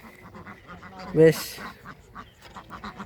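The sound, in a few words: ducks quacking in the cold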